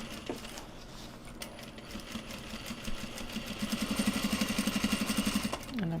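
A sewing machine stitching Japanese fabric runs with a steady, fast mechanical whir, faint at first and then growing louder and more rhythmic toward the end, with no talking.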